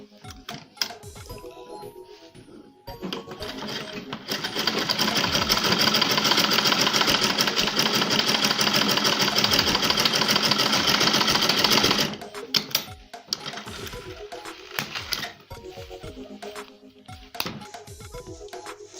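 A sewing machine top-stitches the opening of a satin bonnet in one long, loud, rapid run of about eight seconds, bracketed by handling clicks and fabric rustling before and after.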